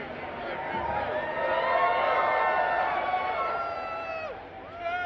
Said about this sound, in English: On the Ellie reveal, you get this big cheer.